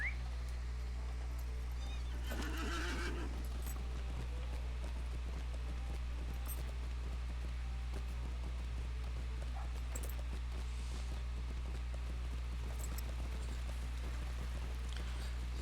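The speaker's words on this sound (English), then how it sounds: "And we now will use our horse." A horse's hooves clip-clop steadily at a walking pace in The Lord of the Rings Online, over a constant low hum, with a brief rustle early on and no neighing evident.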